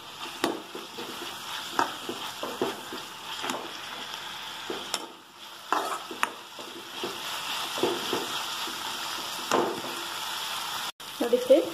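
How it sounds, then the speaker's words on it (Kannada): Garlic ginger paste frying in hot oil as a tempering for an egg sabji, a steady crackling sizzle broken by repeated scraping and stirring clatters of a spoon in the pan, fairly close. "ಬೆಳ್ಳುಳ್ಳಿ ಶುಂಠಿ ಪೇಸ್ಟ್ ಹಾಕ್ತಾ ಇದೀನಿ"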